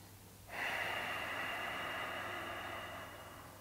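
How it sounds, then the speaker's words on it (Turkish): One long, deep breath during a seated yoga twist, heard as a steady airy rush that starts abruptly and holds for about three seconds before easing off, close and fairly soft, with no talking. "Ve bir derin nefes alıp verdim burada."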